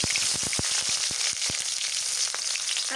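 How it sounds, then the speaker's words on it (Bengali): Curry of potato, dried fish and Malabar spinach frying in hot mustard oil, a steady close crackling sizzle with sharp spattering pops throughout, no voices. "আলু দিয়ে, শুটকি দিয়ে, পুঁই শাক দিয়ে রান্না করি, সরিষার তেল দিয়ে দিই।"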